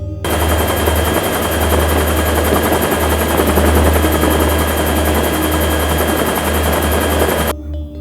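Mi-17 military helicopters roar loud and close with a steady rotor thump and broadband engine whine, holding constant for about seven seconds before cutting off abruptly.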